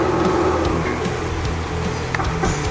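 Throttle sound effect from an XD580 toy loader's built-in sound system, a loud, steady synthetic engine drone with rhythmic low-pitched pulsing running unbroken throughout, no talking.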